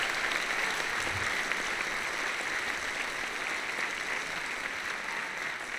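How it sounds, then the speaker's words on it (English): Audience at a university physics slam giving a speaker a round of applause, dense steady clapping filling the room from start to finish. "let's give Tristan one quick round of applause"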